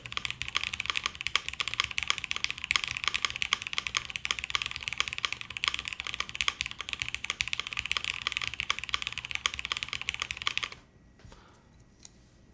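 Rapid continuous typing on a mechanical keyboard fitted with a Cherry Nixie spacebar switch, dense clacking keystrokes close up for about eleven seconds, then stopping into near silence with a couple of faint taps.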